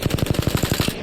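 Rapid bursts of 301 rifle fire with a 3x scope in Apex Legends, about eleven evenly spaced punchy shots in quick automatic rhythm, loud and close with no talking.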